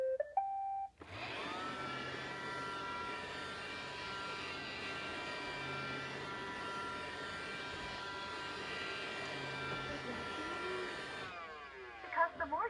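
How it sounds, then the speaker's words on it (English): Roomba robot vacuum cleaner running close by, a steady whirring motor hum with a high whine that starts abruptly, holds constant for about ten seconds, then cuts off, with brief clicks at either end. "So how does Roomba get your floors so clean? Roomba uses a vacuum"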